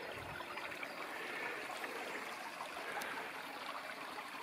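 The Source de l'Ermite stream, near the RN57 road between Besançon and Vesoul, gives a steady, soft rush and trickle of flowing water. It is moderately faint and continuous, with no talking.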